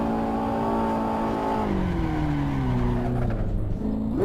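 A Ferrari 812 in the racing game Assetto Corsa screams at high revs, its engine tone falling through a shift and then climbing again, loud and close with no voices over it.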